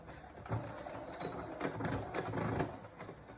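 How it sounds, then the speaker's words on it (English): A home sewing machine stitches thick fabric for a face mask, making a quick, uneven mechanical chatter of needle strokes at low to moderate volume with no speech. "my sewing machine doesn't like the thickness"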